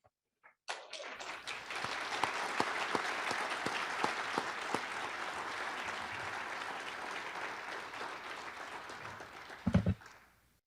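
An audience applauds to welcome speaker Mai Lee Chang at an International Day of Women and Girls in Science event, sustained even clapping from a crowd that starts abruptly and fades after about ten seconds.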